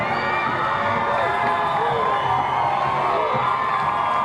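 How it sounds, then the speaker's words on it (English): Dense crowd cheering and whooping at the 2007 San Antonio Spurs NBA championship parade, a loud, continuous roar of many voices with shrill shouts rising throughout. "Crowd's going nuts."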